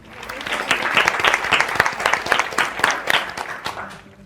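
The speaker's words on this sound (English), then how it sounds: "Join me in applauding the teams." A studio audience at a university quiz championship final claps for the competing teams, a close lively burst of individual hand claps that rises quickly, stays strong, then tapers off.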